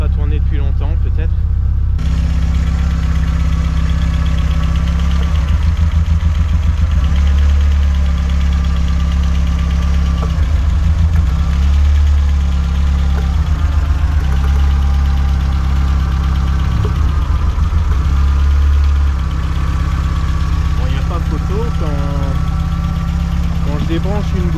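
A 1987 Volkswagen Scirocco II GTX 16V idling with a steady, close, low engine drone and a slightly uneven, knocking pulse throughout, while someone talks over it.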